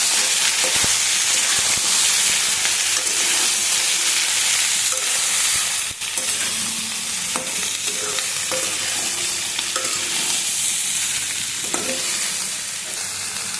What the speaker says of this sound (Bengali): এবার সোয়াবিনগুলো একটু আলুর সাথে ভেজে নেবেন।